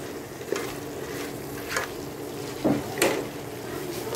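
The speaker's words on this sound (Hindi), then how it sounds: "उसको अच्छी तरह मिक्स कर लें और थोड़ा सा 5 मिनट के लिए मज़ीद भून लें।" Apple gourd and mutton frying together in a pan, a steady sizzle with four distinct stirring scrapes spaced about a second apart, close and fairly loud, no one speaking.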